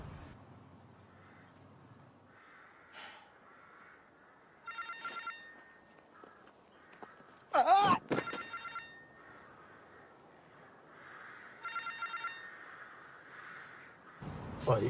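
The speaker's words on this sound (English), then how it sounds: "Come on, Jamie, answer your phone." A telephone rings in short trilling bursts repeated at intervals inside a quiet room, with faint sharp knocks and shuffles in between and no voices.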